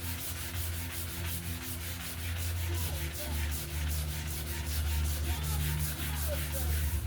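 A boat hull is wet sanded by hand in steady, rhythmic back-and-forth strokes, a close and continuous scratchy rubbing with no talk.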